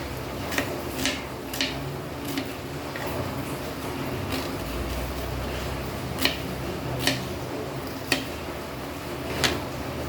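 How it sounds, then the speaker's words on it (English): Onions chopped with a knife on a board for a Goan ridge gourd bhaji make sharp, evenly spaced taps, roughly one every half second to second, over low kitchen background. "So onions are just to be chopped like this, not thin slices."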